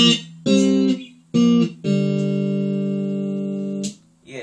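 Guitar plays the final phrase of a riff as two-string power chords: three quick chord hits, then a long sustained chord ringing for about two seconds before being cut off, with no talking.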